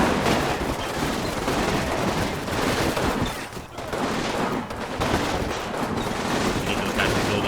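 Dense gunfire from the Combat Mission: Final Blitzkrieg video game, with overlapping rifle and machine-gun bursts rolling continuously at steady loudness and no break for talk.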